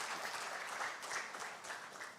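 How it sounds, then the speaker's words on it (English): An audience at a cost accountants' convention in Kochi applauds a panel discussion, with a dense steady clapping that sounds fairly distant and quiet. "Would you like to thank them all with a big round of applause, please?"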